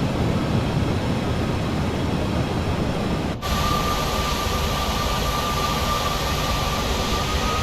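A PMDG 737-900 airliner on approach to land in Microsoft Flight Simulator 2024 produces a continuous broadband jet engine roar, steady and loud, with a brief dip partway through followed by a faint tonal whine, and no talk.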